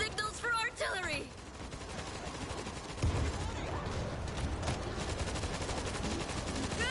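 Artillery called in by radio in a video game: after a brief burst of chirpy sounds, a dense, continuous barrage of gunfire and explosions rumbles steadily, fairly distant and muffled.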